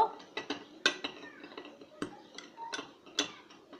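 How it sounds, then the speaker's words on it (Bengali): Homemade chaat masala spice mix being stirred in a bowl, a spoon scraping and clinking against the sides in irregular taps and rubs, close and fairly quiet with no talking. "এটাকে আমরা এখন খুব ভালো করে মিক্সড করে নেব"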